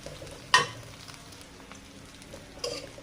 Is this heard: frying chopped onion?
yes